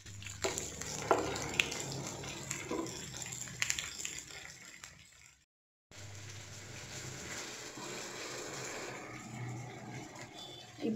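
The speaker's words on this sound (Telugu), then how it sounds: "ఇప్పుడు బాగా ఫ్రై అవుతుంది కదా" Asafoetida tempering frying in hot oil in a pan for South Indian tomato dal, a steady close sizzle that cuts out briefly midway and then resumes just as steadily.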